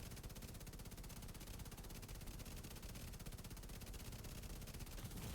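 Sustained rapid gunfire in The Division 2, dense continuous automatic bursts filling the whole stretch at steady loudness with no clear talk over it.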